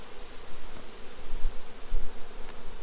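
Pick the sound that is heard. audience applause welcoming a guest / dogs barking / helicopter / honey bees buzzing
honey bees buzzing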